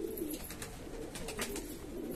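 Pigeons coo softly nearby, a few low, rolling calls repeating against a quiet background with faint ambient noise and no voices.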